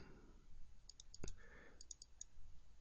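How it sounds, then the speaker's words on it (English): Computer mouse clicks while opening a template in road design software, several light, quick clicks in small clusters against faint room noise, with one sharper tap near the middle. "select the 2-lane rule template by double-clicking on it"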